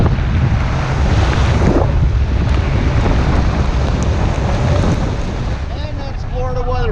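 A sudden Florida storm out on the water during stone crab fishing from a boat: loud, roaring wind buffets the microphone over rushing, crashing waves, a continuous heavy wash of noise.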